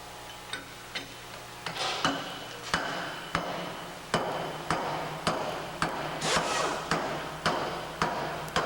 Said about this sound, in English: I want you to listen to the tone of the hammer.